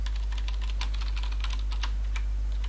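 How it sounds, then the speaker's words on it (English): Someone typing Java code on a computer keyboard, rapid close key clicks in irregular bursts over a constant low electrical hum, with no talking. "we're going to type out something like name of"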